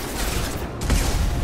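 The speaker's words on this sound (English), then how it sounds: "need a concussive shot" Concussive shot weapon fire in the Mass Effect 2 video game, a dense burst of gunfire with a heavier blast near the end, loud and continuous with no talking.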